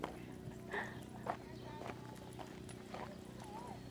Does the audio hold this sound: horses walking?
yes